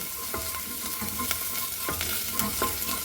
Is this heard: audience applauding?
no